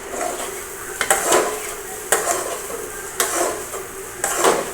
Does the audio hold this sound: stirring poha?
yes